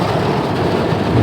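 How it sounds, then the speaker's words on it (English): Heavy rain falling hard, a loud, dense, continuous wash of noise with a low rumble, steady throughout the short stretch. "it's kind of raining a little hard"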